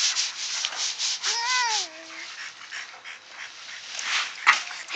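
A dog lets out one drawn-out, whiny bark over a steady rough rubbing noise.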